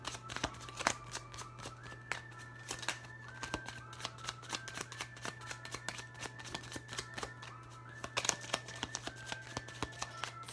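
Oracle cards from a Pure Love Oracle deck being shuffled by hand, a close, quiet run of rapid riffling flutters and soft slaps in irregular bursts, with a steady low hum underneath and no talking.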